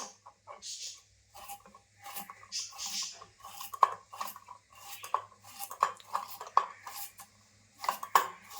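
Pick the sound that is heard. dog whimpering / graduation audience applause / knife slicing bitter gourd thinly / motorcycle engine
knife slicing bitter gourd thinly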